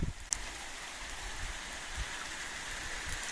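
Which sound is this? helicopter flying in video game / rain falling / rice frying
rain falling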